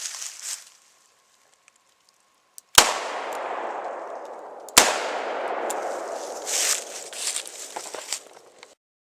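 Two sharp, loud revolver shots from a Ruger LCR .357 Magnum, the first a .38 Special +P load and the second a 158-grain .357 Magnum load. Each crack is followed by a long, rolling outdoor echo, with a brief faint sound before them.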